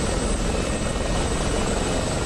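Helicopter lifting off in the DCS flight simulator, either an Mi-24P Hind or an SA342 Gazelle, a steady loud rotor and turbine drone with constant high whine throughout.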